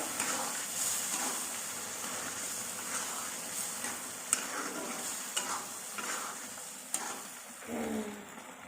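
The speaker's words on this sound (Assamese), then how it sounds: "এতিয়া মই ভিজাই লোৱা দাইলখিনি দি দিম" Soaked lentils hiss and crackle in a hot pan, a quiet continuous sizzle with occasional sharp ticks and spatula stirring strokes nearby, no voices.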